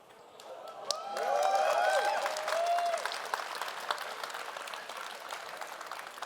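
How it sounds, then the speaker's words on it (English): Convention audience at a RuneScape fan event bursting into applause and cheering, a dense wash of clapping with whoops and whistles that swells quickly, peaks, then slowly thins out, heard from within the crowd. "Thought that might get a cheer."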